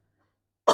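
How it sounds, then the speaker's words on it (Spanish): A single sharp adult cough bursts out loud and close after near silence, demonstrated during a pediatrics lecture on bronchiolitis. "Yo toso"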